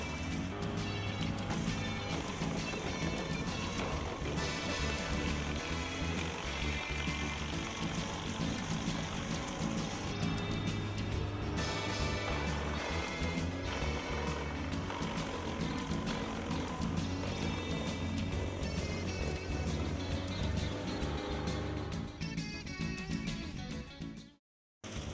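A GreenMech Chipmaster 220, a 9-inch twin-roller wood chipper with a 50 hp four-cylinder water-cooled diesel engine and a heavy-duty flywheel, runs with a loud, steady mechanical roar and grinding that holds for about 24 seconds, then cuts out abruptly.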